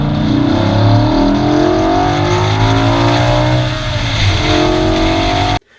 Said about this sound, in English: it was a naturally aspirated V10 engine, and it sounded amazing